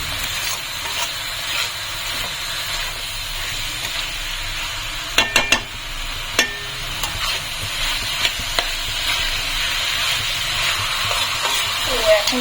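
Spices and ginger powder frying in a home-cooking pan, a steady broadband sizzle with a few sharp clacks of stirring and scraping partway through.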